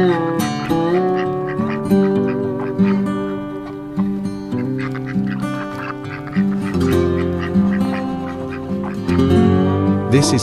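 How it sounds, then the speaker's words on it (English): A duck quacks over a busy, loud musical backing track in an animal-sounds compilation, its calls mixed in among steady melodic tones throughout. "This is Duck."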